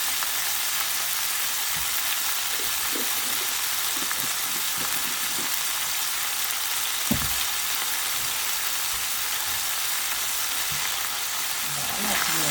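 A mixture fries in a pan with chili powder as it is stirred, giving a steady loud sizzle with scattered soft spatula scrapes close by.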